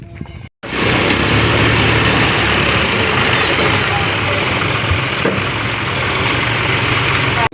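An old tractor engine runs steadily, a loud and close low rumble that holds constant throughout after a brief gap at the start.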